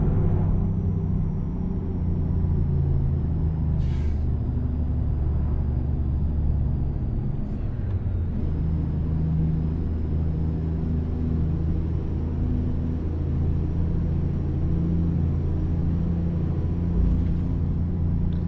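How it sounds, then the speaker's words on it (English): Kenworth T909 truck in American Truck Simulator, hauling a reefer B-double through Kansas: a steady, deep engine rumble drones on continuously with a faint high whine above it, with no talking. "Kenworth T909 is what we're rolling with tonight"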